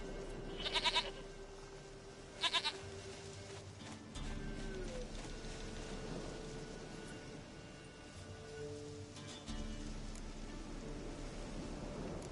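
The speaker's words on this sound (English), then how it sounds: "Goat of mine, dearest, sweetest goat." In The Witcher 3: Wild Hunt, two brief bleats from a goat sound early amid a steady game ambience of low hum and soft background noise, with faint bird-like calls later.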